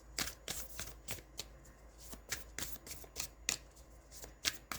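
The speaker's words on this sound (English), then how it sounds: "I'm just going to give these a little shuffle." A deck of Healing Waters oracle cards being shuffled by hand, a quick irregular series of close riffling flicks and soft slaps repeating for several seconds, with no talk over it.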